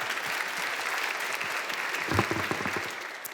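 Audience applause at a science pitching competition, a dense continuous clatter of many hands swelling briefly near the middle, heard alone.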